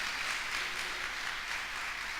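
Church congregation clapping in praise during a Spanish-language service, a dense continuous patter of many hands at moderate distance, with no voices over it.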